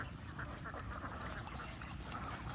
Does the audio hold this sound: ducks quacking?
yes